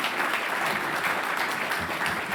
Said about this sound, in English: a round of applause for my fabulous panelists and co-authors